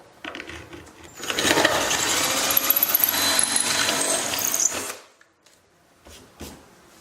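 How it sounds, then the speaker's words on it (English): Power drill boring the rear mounting hole for a JCRacing sponson on an SXR 1500 jet ski, a loud whining burst lasting a few seconds before cutting off, followed by faint handling clatter. "and then drill the rear hole."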